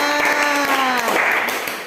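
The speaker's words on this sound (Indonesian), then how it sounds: "beri tepuk tangan untuk kelompok 3" Classroom applause for group 3 at an open-class training session, a dense spread of claps over a voice speaking near the start.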